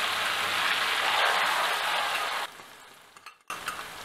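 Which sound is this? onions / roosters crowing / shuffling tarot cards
onions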